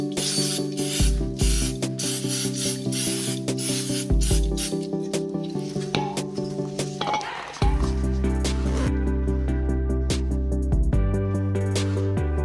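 Brake cleaner is sprayed in repeated bursts onto the rear brake parts of a Mercedes C-Class W203 (C230). Loud close hissing spurts mix with metallic clinks and scraping, and a steady low hum runs underneath.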